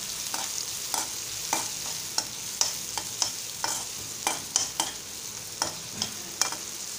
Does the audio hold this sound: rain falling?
no